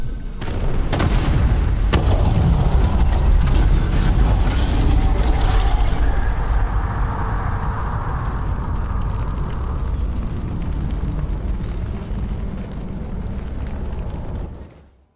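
A huge video-game explosion blows apart a structure, a loud booming blast with crackling debris that rumbles on for many seconds and slowly fades out.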